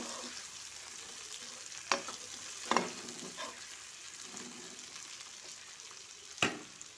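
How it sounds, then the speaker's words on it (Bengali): Broad beans and eggplant frying in a pan give a soft, steady sizzle, with a few distinct spatula scrapes and knocks as they are stirred, fairly quiet and close, no voices. "এবার দিয়ে দিলাম শিম আর বেগুন। শিম আর বেগুনগুলো ভালোভাবে আমি মিশিয়ে নেব।"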